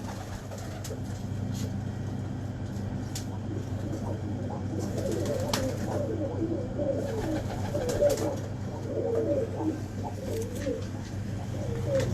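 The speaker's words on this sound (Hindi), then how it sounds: "ये कबूतर," Pigeons cooing steadily in a loft, a low continuous murmur of overlapping coos with occasional flutters and faint background noise throughout.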